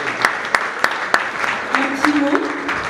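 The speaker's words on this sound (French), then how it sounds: "Applaudissements nourris, mesdames, mesdemoiselles et messieurs." Applause at an evening awards ceremony honoring a peace ambassador, with sharp individual claps ringing out in an uneven rhythm over a murmuring crowd, and a voice speaking over the clapping.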